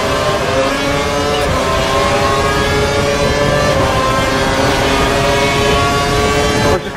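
F1 race car engines from the F1 2012 game at the India sprint race, a loud sustained high-revving whine with stacked harmonic tones, holding steady before a brief drop at the very end.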